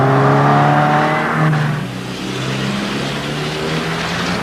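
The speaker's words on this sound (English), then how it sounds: "release the emergency brake and accelerate" A car accelerating hard out of a bootleg turn after the emergency brake is released, its engine droning loud and steady with a rising tone, close by, no voices.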